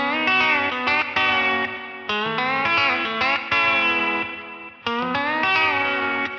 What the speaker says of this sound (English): You can hear I'm bending it real out of tune right now.